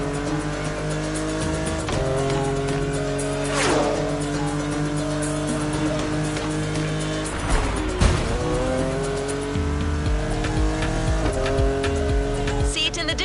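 Mustang GT tuned for off-road driving in the racing game The Crew Motorfest, its engine droning loud and steady with rising and falling revs and sharp tire squeals during turns.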